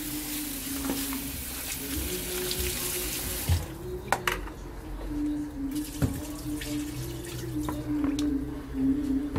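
Vegetables for Moroccan couscous (peppers, tomatoes, pumpkin, courgette) being rinsed under a running kitchen tap, a steady close splashing hiss that continues throughout with occasional clinks and knocks in the sink.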